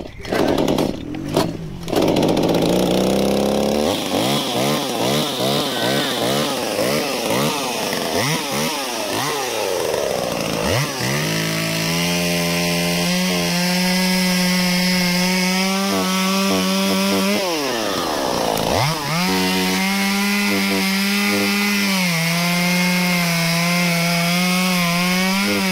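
A chainsaw running a dull chain bogs and revs while cutting into wood, its close, loud engine pitch rising and falling through repeated cuts with brief idle dips between them.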